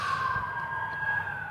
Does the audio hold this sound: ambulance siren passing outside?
yes